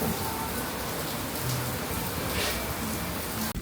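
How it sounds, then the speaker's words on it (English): Steady rain falls at Tokyo DisneySea as a dense, even hiss of drops. It runs unbroken the whole time at moderate loudness, with no voices over it. "I think it's raining."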